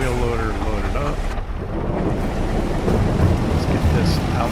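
Rain hisses steadily with low rumbling thunder in a Farming Simulator 22 farm scene, a continuous broadband wash that swells slightly toward the end.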